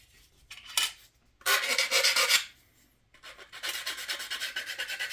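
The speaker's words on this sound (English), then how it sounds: "Do some sanding there." Sanding a plastic model part on an Atlantis 1957 Cadillac Eldorado Brougham kit: three bursts of close, raspy scraping strokes, the last a steady rhythmic back-and-forth rubbing, separated by brief quiet gaps.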